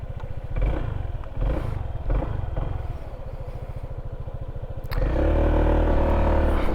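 A scooter engine sputters and chugs as it starts, runs with a steady low putter, then climbs into a louder, smoother drone near the end, close by with no talking.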